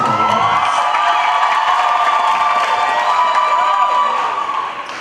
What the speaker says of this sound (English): Please give a nice big round of applause.